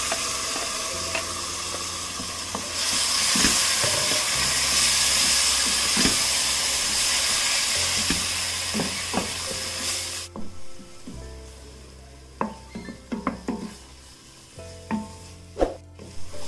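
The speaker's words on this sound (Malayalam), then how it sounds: "ഇനി നമുക്ക് ഈ അടിച്ച് വെച്ചിരിക്കുന്ന ടൊമാറ്റോ ഇതിലേക്ക് ഇട്ടിട്ട് ഇളക്കി കൊടുക്കാം." Blended tomato goes into a hot pan and is stirred, producing a loud steamy sizzle that fades after about ten seconds into quieter frying with sharp spatula scrapes and knocks.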